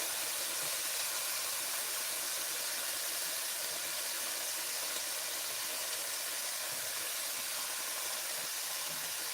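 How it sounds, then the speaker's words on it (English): Shrimp, chicken and broccoli sautéing in a pan give off a steady, soft sizzling hiss that continues evenly with no talk over it. "we're just going to saute these down just a little bit"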